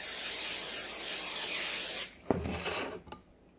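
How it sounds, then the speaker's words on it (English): Pam cooking spray hisses steadily onto a cake pan for about two seconds, close and continuous, then a few light clinks and rubbing sounds as the pan is handled. "now I need to grease my pan with this Pam"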